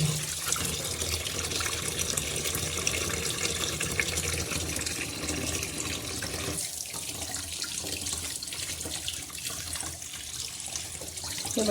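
Water runs steadily from a tap as bangda mackerel fish are washed clean in a sink, a continuous loud splashing gush with slight changes as the hands move the fish.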